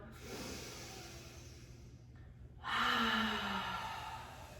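A single open-mouth exhale during a yoga breathing exercise, a soft airy breath followed by a louder, longer breathy release, close and alone.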